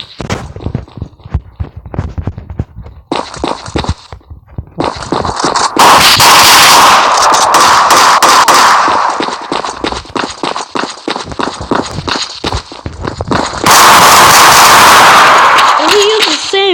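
Video game weapon fire comes in rapid sharp cracks and bursts, with loud dense volleys near the middle and end and a voice talking between them.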